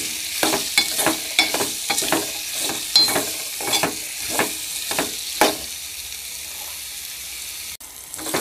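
A spoon stirring bottle gourd pieces with ginger and turmeric in a hot pan: repeated scraping strokes in a steady rhythm over a soft sizzle, close up, then the stirring stops and only the quiet frying remains.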